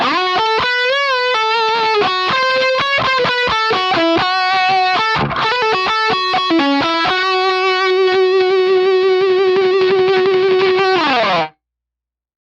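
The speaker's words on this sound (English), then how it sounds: "check out the dry solo tone" Dry distorted electric guitar plays a fast lead line in a solo tone on Line 6 gear, sustained notes and quick runs, loud and upfront with no other instruments, then cuts off abruptly.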